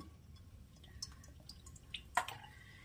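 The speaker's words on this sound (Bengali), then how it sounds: "দিয়ে দিলাম সাদা তেল।" White cooking oil is poured into a pan while sambar dal with split peas is being made. The liquid is quiet and faint, with a few soft drips and one clearer splash near the end.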